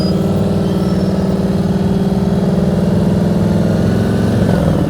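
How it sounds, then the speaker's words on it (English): Motorcycle engine held at high revs through a front-brake stop at a cone during a riding practice drill, a steady close buzzing drone with harmonic layers that holds level for the whole stretch, no voices. "See how Jeff's RPMs stay all the way up until he stops."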